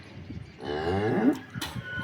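A cow that calved two days earlier gives one long, low mooing call, close and loud, with a faint rustle of the farm setting before and after it.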